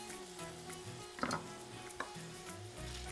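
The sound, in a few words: stirring shirataki fried rice in the pan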